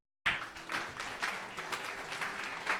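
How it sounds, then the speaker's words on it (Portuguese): A church congregation at a Sunday family morning service bursts into applause, a sustained wash of many hands clapping that rises sharply and continues evenly for several seconds. "Dê um aplauso a Jesus."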